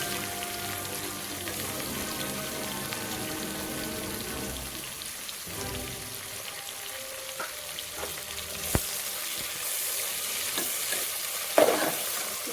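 Onions with a pinch of salt sauté in a pan for cooker biryani, a steady close sizzle with stirring scrapes throughout and a few sharper clinks near the end.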